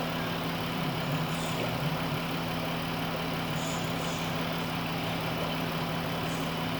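A Pentastar car engine idles steadily during a coolant bleed, giving a continuous low hum at an even level throughout, with no talking.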